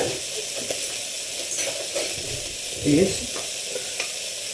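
Spices sizzle and fry in a pan sprayed with Fry Light oil, a soft steady crackle with occasional stirring scrapes at close range.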